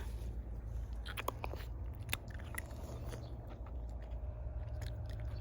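Someone bites into ripe red wild fruit picked under the tree and chews it close up. Crisp crunches and clicks come at an uneven pace over a steady outdoor background hum.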